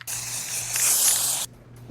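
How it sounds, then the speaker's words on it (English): An adhesive spray can hisses onto upholstery foam base pieces in one steady, close blast of about a second and a half that cuts off abruptly. "I'm going to use an adhesive spray to adhere them together."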